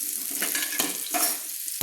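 Potatoes frying in mustard oil give a soft, close sizzle with light scraping clinks as a slotted spoon lifts them out of the pan.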